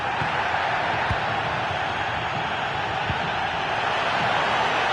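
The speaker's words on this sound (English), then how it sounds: "The crowd certainly think so. Just listen to this noise." Steady roar of a stadium crowd at a Real Madrid match in a football video game, a broad continuous wash of noise with no commentary over it.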